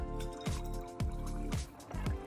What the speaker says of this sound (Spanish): Y completamos con agua tónica.